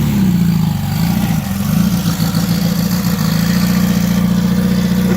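An off-road Baja vehicle's engine runs steadily at a low idle, its loud, even drone dipping slightly and recovering, with no talking over it.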